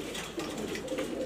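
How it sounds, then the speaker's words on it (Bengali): A female grizzle pigeon coos softly and continuously at close range, a low rolling murmur with no talking over it. "এটা মাদি কবুতর"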